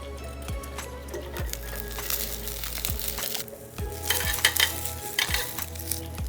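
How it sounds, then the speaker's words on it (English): Asparagus sautéing in oil in a hot pan, a steady sizzle broken by repeated scraping and stirring strokes of a utensil against the pan, close and fairly loud, with no voices. "We're not frying these, we're just sauteing them."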